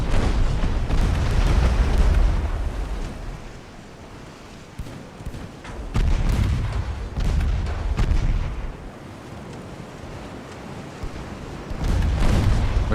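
Black powder naval guns on pre-refit ships with modern-looking turrets firing in the game Ultimate Admiral: Dreadnoughts, heavy booming salvos rolling in one after another with long rumbling tails, loud and dense with no voices.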